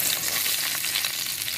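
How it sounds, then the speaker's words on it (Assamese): Onions dropped into hot oil left from frying fish, a dense, steady frying hiss heard up close, alone and without speech. "এতিয়া এই মাছ ভজা তেলতে পিঁয়াজ দি দিওঁ,"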